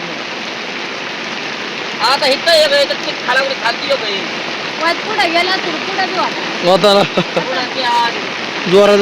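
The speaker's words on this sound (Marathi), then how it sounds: "पाऊस आलाय" Steady rain hisses over open farmland throughout, a constant wash of patter with people talking over it intermittently.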